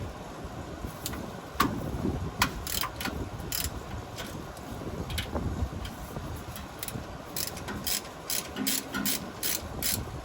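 Hand ratchet backing out the top bolt of a Ford F150 rear differential cover, rapid metallic clicking in irregular bursts over a steady background hiss, close and with no speech.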